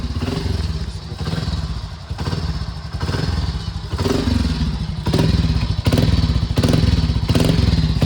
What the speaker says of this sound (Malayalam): ഇതാണ് exhaust. OG Splendor exhaust not.